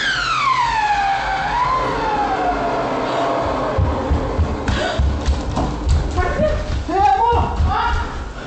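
A smoke or fire alarm blares in a home during a kitchen fire, its loud wailing tone sweeping downward, then continuing under excited voices and clattering.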